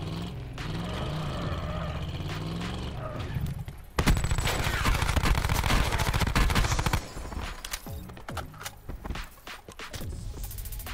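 Rapid gunfire bursts in a shooter video game, loud and dense, with a sharp volley starting partway through and continuing in clustered shots over game sounds and a voice.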